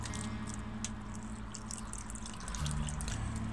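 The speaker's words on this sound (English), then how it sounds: "we're gonna pour water on those and see which one gives the best drainage" Water is poured onto pots of peat moss and sand growing media, making a soft, steady trickle with faint drips and gentle squishing close by and a low hum underneath.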